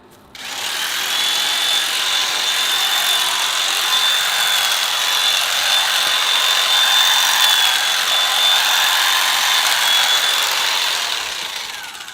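A power hedge trimmer cutting back a fernbush shrub, a continuous high buzzing motor whine that starts abruptly and holds steady and loud for about eleven seconds before tapering off, with no talking.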